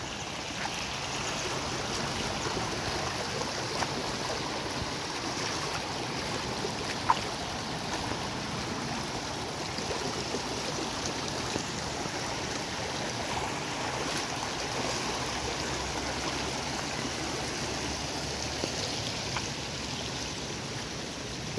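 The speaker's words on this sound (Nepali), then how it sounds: "अहिले यहाँ खोला बगिरहेको छ।" A mountain stream rushes over a destroyed former paved road in the hills, a constant broad wash of flowing water with no voices, steady and close throughout.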